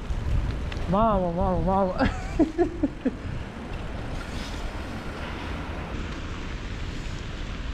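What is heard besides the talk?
wind and rain outdoors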